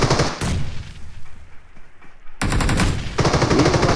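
Bursts of automatic gunfire in the battle royale game BGMI, a loud rapid volley, a quiet gap of about two seconds, then sustained close firing resuming to the end.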